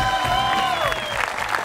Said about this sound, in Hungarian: A legnagyobb tapsot.